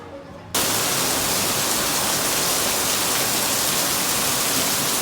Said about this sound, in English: So it's raining here